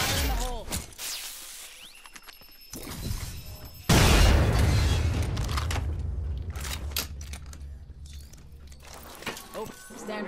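A grenade explodes in Apex Legends with a sudden loud boom that sets off a long rumbling, crackling tail of debris. Game effects and talk come before it.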